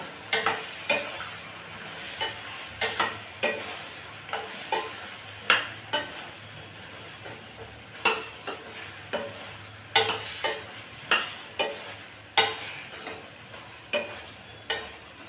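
Brinjal and onions being sautéed in a pan for a village-style dry fish gravy give a soft, steady sizzle punctuated by repeated sharp scrapes and taps of a spatula stirring, close by, with no talking.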